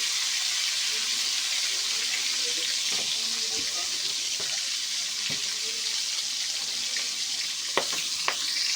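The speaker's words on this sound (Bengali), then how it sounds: "মাছের ডিমটা ভালো করে ভেজে নেব" Fish roe fries in a hot pan, giving a steady sizzling hiss with occasional pops and crackles, close and even throughout.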